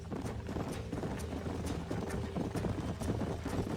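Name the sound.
horse hooves clip-clopping, from a video game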